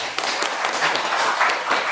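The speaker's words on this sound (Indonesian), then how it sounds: "Tepuk tangan dong untuk kelompok 1." Classmates applaud a student group during a lesson, a steady patter of many hands clapping together in a room, close and moderately loud throughout.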